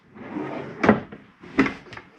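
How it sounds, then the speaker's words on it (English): A drawer under the TV in a Forest River FR3 34DS motorhome slides open and shut, giving two close wooden knocks with soft sliding rumble between them. "Below your TV, got some drawers."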